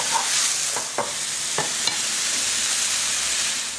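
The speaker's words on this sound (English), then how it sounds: "We'll just let them cook off together with the onion" Mushrooms and onion fry together in a pan for a spinach frittata, giving a steady, close sizzle broken by a few short scrapes of stirring, with no talk.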